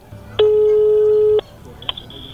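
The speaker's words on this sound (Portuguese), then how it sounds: "Então vamos lá, vamos ligar pra ela." A telephone call being placed: one long, loud steady ringback tone lasting about a second, followed by a faint click and a softer higher tone as the line connects, heard up close.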